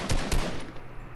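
In a video game, two quick gunshots fire in rapid succession at close range, followed by a fading reverberant tail.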